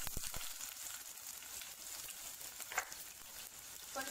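Onions sizzle and fry steadily in hot oil in a kadai, a continuous dense crackle with a few sharper pops and a brief clatter near the start.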